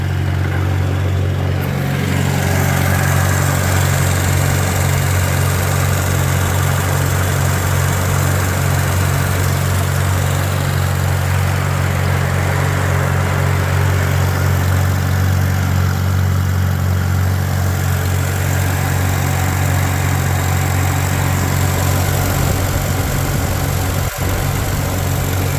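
A 1949 Farmall Super AV high-clearance tractor engine runs steadily at wide-open throttle at fairly low RPM, a loud, constant, close low drone with an even throb that holds unchanged throughout, no talk.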